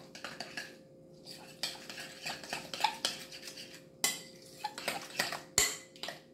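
A spoon scrapes and clinks around a bowl as mayonnaise is stirred into cauliflower salad, giving an irregular run of close, sharp taps and scrapes with brief pauses and no talking.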